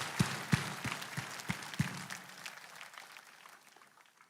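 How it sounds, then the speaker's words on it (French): A church congregation claps in a sermon hall, with a handful of sharp, distinct claps in the first two seconds that thin out and fade into quiet room noise. "Applaudissez pour vous-même."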